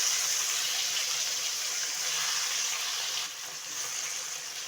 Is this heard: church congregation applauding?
no